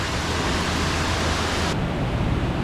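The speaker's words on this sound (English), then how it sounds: "balcony, overlooking the Cascades. And there's that waterfall." Indoor waterfall cascade at the Gaylord Opryland resort hotel in Nashville, a steady, dense rush of falling water filling the space evenly and loudly, with no voices over it.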